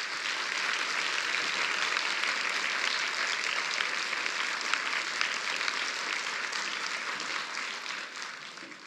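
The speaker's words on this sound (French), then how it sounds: "je pense qu'on applaudit bien fort notre conférencier" A lecture audience breaks into sustained, dense applause for the speaker, many hands clapping steadily and loudly before tapering slightly at the end.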